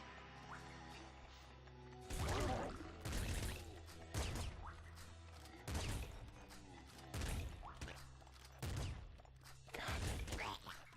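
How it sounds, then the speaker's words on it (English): Heavy slugger shotgun blasts in the top-down shooter Nuclear Throne, about six loud booming shots spaced roughly every one to two seconds over a steady game soundtrack. "I'm going to use the slugger here."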